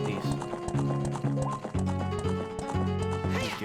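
Hoofbeats from a horse galloping in Zelda: Ocarina of Time come in a rapid rhythmic clip-clop, set against steady game music, with occasional brief neighs and a voice talking over it.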